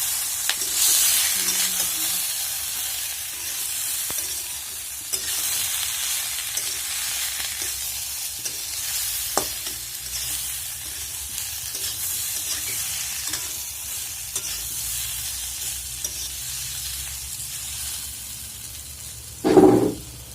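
Boiled potatoes fry in a hot pan with a steady, loud sizzling hiss throughout, faint stirring scrapes, and a sharp clatter near the end.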